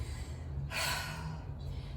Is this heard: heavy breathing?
yes